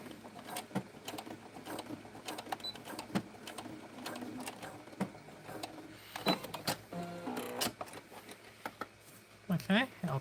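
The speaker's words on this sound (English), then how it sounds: "a straight stitch can do this. Okay, I'll put it towards the end there and just sew it down." A sewing machine running a straight stitch, its rapid mechanical stitching coming in short bursts and pauses with clicks and handling noises, while a person talks over it.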